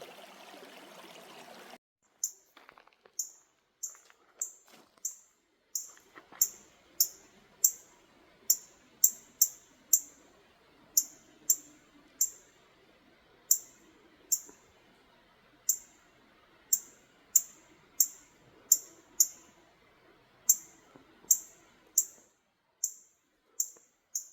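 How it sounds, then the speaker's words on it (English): A cardinal on the Appalachian Trail in North Carolina gives sharp, high chip calls, repeated roughly once a second over a faint background hush, clear and fairly close. "So that's the noise a cardinal makes, huh?"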